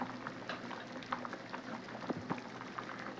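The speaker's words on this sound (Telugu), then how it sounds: "చారు అయితే బాగా ఉడుకుతుందండి" Drumstick sambar with lentils and tomatoes bubbles in a pot on the stove, a faint, continuous simmer with scattered soft pops and no voices.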